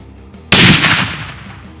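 A live fragmentation grenade detonates outdoors in Texas: one sudden, very loud blast that hits at once and then fades into a decaying rumble over about a second.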